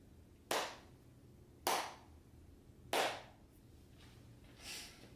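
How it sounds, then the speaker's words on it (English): Three sharp, separate hand claps ring out a little over a second apart in a quiet room near CNC electronics, with a fainter fourth clap at the end over a low background hum. "I'm gonna clap again"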